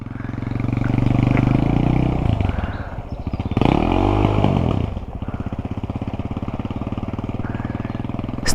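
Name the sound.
Raptor 250 quad engine accelerating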